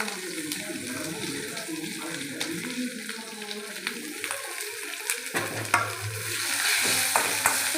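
Sliced onions sauté with garlic in a pan for paneer gravy, a steady close sizzle with scraping stirs and occasional clinks, growing slightly louder toward the end.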